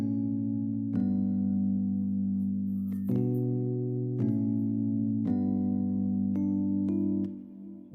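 Sustained amapiano synth chords change every second or so, with a warm mellow tone and soft attacks and a few light bell-like accents on top, playing alone without any drums.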